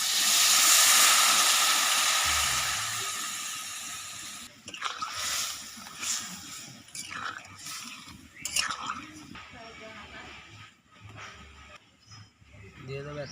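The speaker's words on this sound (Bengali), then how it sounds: "অল্প জল দিয়ে দিচ্ছি।" Water poured into a hot pan of sambar with drumstick, brinjal and pumpkin, a loud steaming hiss that fades after a few seconds into scattered clinks and stirring sounds.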